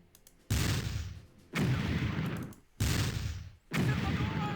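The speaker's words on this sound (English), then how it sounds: "Well, we might as well go ahead and open fire." Four heavy bursts of gunfire ring out in the WW1 strategy video game Battle Academy. Each loud, booming volley decays quickly before a short gap.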